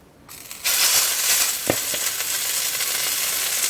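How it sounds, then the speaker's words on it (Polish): Pork tenderloin laid onto a preheated oiled frying pan bursts into loud, steady sizzling after a quiet moment, with a couple of faint clinks as the meat settles and the hiss continues close and alone. "I teraz już biorę sobie taką polędwiczkę i kładę na rozgrzaną patelnię"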